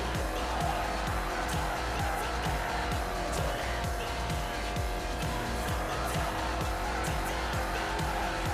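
A car drifting in a multiplayer Need for Speed racing game for Android: a steady, loud engine roar mixed with rapid tire squeals and skidding, with no voices.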